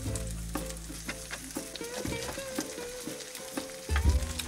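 A veggie burger patty frying in butter gives a soft, continuous sizzle broken by repeated light taps and scrapes from turning it, close and fairly quiet, with a faint voice in the background.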